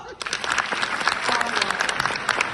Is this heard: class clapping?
yes